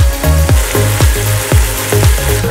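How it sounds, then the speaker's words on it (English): Meat frying in a pan on a home stove, giving a steady loud sizzle with repeated scraping strokes of stirring, close and without talk. "So I have the meat in here cooking."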